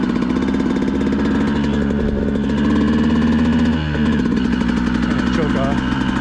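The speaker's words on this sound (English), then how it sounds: "The engine's pretty cold." A cold Beta motorcycle engine idles steadily with a low, rough mechanical drone, loud and close, holding its pitch for several seconds with people talking over it.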